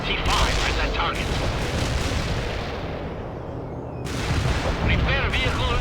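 Artillery fire in the real-time strategy game World in Conflict: heavy booming blasts and a sustained rumbling barrage, loud and close, with a pair of sharper bursts near the start and again near the end.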